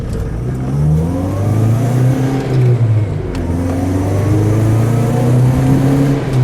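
A 1980 Saab 96 GL with its V4 engine pulls hard along a straightaway, the exhaust note rising and falling through gear changes as it accelerates, loud and close from inside the car, with no talking.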